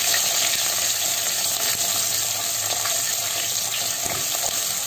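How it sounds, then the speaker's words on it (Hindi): Asafoetida and a ground ginger and green chili paste fry in hot oil for a Marwadi sev tamatar curry, giving a loud, steady, unbroken sizzle that fills the whole stretch with no voices. "1 छोटा चम्मच अदरक हरी मिर्च पीसी हुई डालेंगे। इसे डालकर थोड़ा सेकेंगे।"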